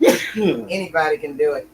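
A single sharp sneeze bursts out at the start, close and loud, followed by someone talking.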